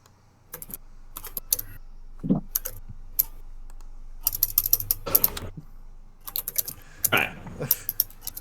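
Computer keyboard typing in bursts of rapid, close clicky keystrokes separated by short pauses, with no talk over it.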